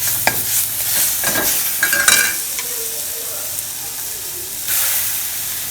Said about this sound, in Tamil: நம்ம அரைச்சி வச்சுருக்கோம்ல பிரண்டை மசாலா எல்லாம், அதையும் இதில் போட்டுக்கோங்க.